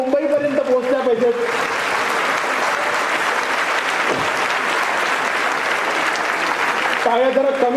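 An audience claps for the guests at the inaugural function of a student parliament, with dense applause swelling in after a voice and carrying on steadily. The voice returns as the clapping fades.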